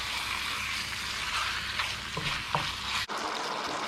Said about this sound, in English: we're just going to continue cooking that away in that paste.